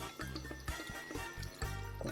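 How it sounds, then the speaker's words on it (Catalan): A little water is poured into a pan of sardines cooking for escabeche, giving short gurgling splashes and drips over a low, steady hum. "i ara hi tirem una miqueta d'aigua"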